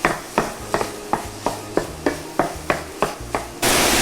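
Rhythmic scraping and tapping of a utensil breaking up food cooking in a pan, about ten evenly spaced strokes over a soft sizzle, ending in a louder hiss.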